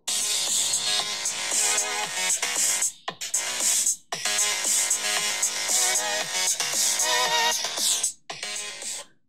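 Ringtone melody played loudly through the iPhone 8 Plus speaker, bright and tuneful, looping in repeated phrases separated by brief silent breaks, with no voices over it.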